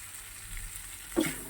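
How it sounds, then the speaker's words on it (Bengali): Spice masala frying in a pan for a prawn and kohlrabi curry, with a steady low sizzle that swells into a brief burst of stirring and crackle near the end; no one speaks. "এখন আর একটু মশলাটা কষাতে হবে"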